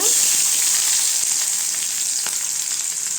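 Onion and mustard seeds fry in hot oil for a coriander chutney, giving a loud, steady, close sizzling hiss with faint crackles throughout.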